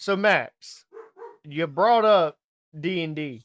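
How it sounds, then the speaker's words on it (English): A dog barks in sharp bursts close by, breaking in between a man's speech and overlapping parts of his talk. "excuse the dog barking"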